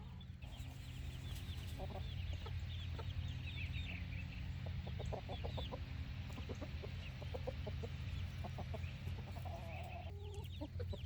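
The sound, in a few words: rooster clucking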